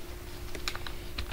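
Someone types on a computer keyboard while working in PowerPoint, producing a quick run of light key clicks, close and moderately quiet over a faint steady hum.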